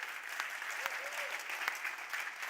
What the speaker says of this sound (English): Let's do one last big round of applause for the 20 finalists.